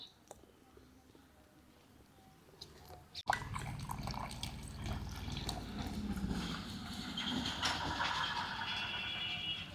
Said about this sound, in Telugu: ఇప్పుడు సరిపడా పాలు పోసేసుకుందాం